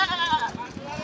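A goat at a busy goat market in Keshampet, Telangana, gives a short wavering bleat, fairly close, over a brief muffled background with a few soft thuds.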